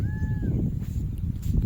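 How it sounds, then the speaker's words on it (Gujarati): A peacock calls once in a jungle, a short, bright, slightly falling cry at the very start, then fades into a steady rumbling wind-like background. "જો મોરલા ટહુકા કરે હો ભાઈ"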